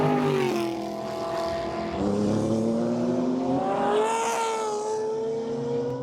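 A car engine with a new muffler howls at high revs on a race track, its pitch climbing and dipping as it drives past, loud but with some distance.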